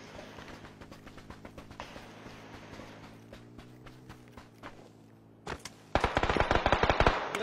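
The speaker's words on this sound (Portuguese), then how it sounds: "Só escutei tiro, não sei onde que tá" Rapid bursts of PUBG gunfire crackle among footstep-like thuds, getting much louder and denser near the end, with almost no talking.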